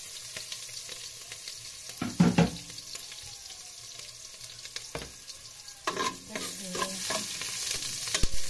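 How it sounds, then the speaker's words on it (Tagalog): Garlic and onion sautéing in a pan, with a continuous close sizzle and several scraping stirs, one sharp scrape early, then a cluster of clattering stirs toward the end. "So ito na nga, gigisa na tayo."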